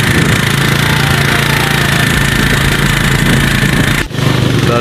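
A Suzuki Gixxer motorcycle rides over a rough, unpaved road, its engine a loud, continuous rattling drone with juddering clatter from the bumps, briefly dipping near the end.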